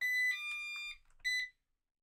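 A series of quiet electronic beeps from a broken Coredy R650 robot vacuum, a few short tonal chirps in quick succession followed by one more after a pause, with no talking.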